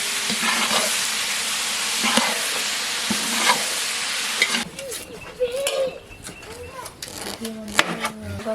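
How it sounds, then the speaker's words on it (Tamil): Onion, green chilli and tomato sautéing in a pan for a Jaffna-style curry: a loud, steady frying sizzle that drops to softer hissing with clattering stirring, with a voice talking over it. "தக்காளி சேர்த்து நல்லா வதக்கி விட்டுலாம்"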